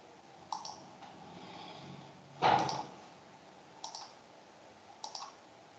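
A few sharp computer mouse clicks at a desk while working through a Power BI sales dashboard, spaced irregularly with one louder, fuller click in the middle; quiet room, no talking.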